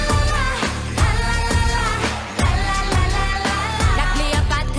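Azerbaijani Eurovision entry blending pop with folk sounds and chant-like vocals, playing loudly over a pulsing beat with sung melody throughout.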